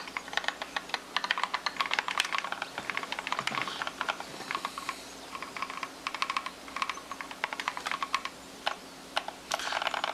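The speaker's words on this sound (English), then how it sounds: "Can't type good." Typing on a computer keyboard, rapid irregular clatter of keystrokes in bursts with brief pauses, close and fairly quiet.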